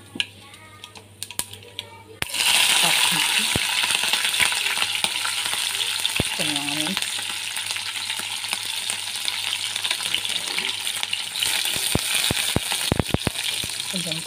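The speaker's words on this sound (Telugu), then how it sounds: "తాలింపు గింజలు వేయాక" Tempering seeds hit hot oil in a pan for a coconut and onion curry, bursting into a loud, steady sizzle and crackle after a quiet start, with scattered sharp pops toward the end.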